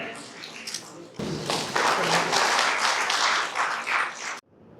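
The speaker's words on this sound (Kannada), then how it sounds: "ಜೋರಾದ ಚಪ್ಪಾಳೆ" Loud applause from an audience at a university jubilee ceremony, a dense burst of clapping that swells after a softer start, holds steady, then cuts off abruptly near the end.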